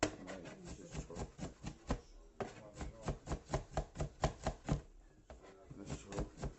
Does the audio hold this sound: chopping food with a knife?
yes